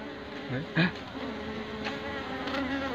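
Honey bees buzzing around a young hive on a bee farm, a constant close drone with individual bees passing near the ear, no talk.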